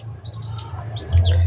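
Paired pigeons coo in low, steady murmurs close by, with a few higher chirps from other birds mixed in.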